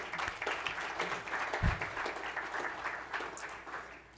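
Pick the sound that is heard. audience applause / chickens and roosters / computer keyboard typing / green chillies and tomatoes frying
audience applause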